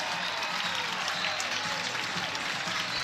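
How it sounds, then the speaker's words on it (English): Crowd at Love's Field on its feet applauding and cheering during a college softball game between South Carolina and Oklahoma, a dense, steady wash of clapping that holds loud throughout. "the crowd here at Love's Field comes to its feet and gives it"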